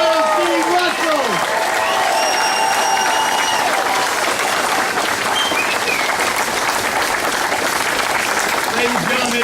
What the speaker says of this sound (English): Round of applause for Lieutenant Colonel Steve Russell.